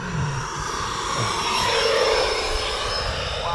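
An E-flite F-16 Falcon 80mm EDF RC jet lines up for landing, its ducted fan giving a steady whining roar that swells slightly and stays close and loud throughout.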